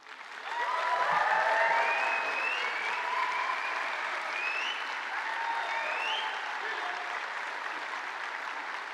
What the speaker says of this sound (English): Now please express your thanks and appreciation to family, friends and staff with applause and cheers.